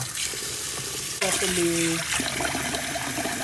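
Rice being washed in a pot with water, a splashing, running-water wash with a sharp onset partway through, close and fairly loud, under a brief spoken word.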